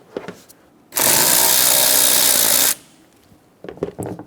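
A power tool whirs to loosen the air box clamp on the intake of a 2014-2018 Chevrolet Silverado 1500 5.3L V8, one loud, close, steady buzzing burst lasting under two seconds, framed by light clinks of handling.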